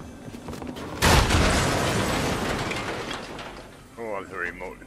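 A remote explosion in Fortnite sets off a sudden broadband boom that decays over a few seconds, followed by a voice speaking near the end.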